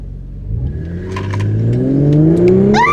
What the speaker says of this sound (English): Just slam on the gas and let go on the brake.